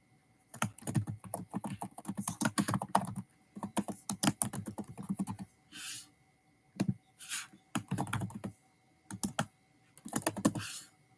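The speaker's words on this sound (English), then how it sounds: "I'm just typing in the poll." Typing on a computer keyboard comes in quick bursts of close clicks, with short pauses between flurries and a few slower, separate keystrokes near the end. No one speaks over the tapping.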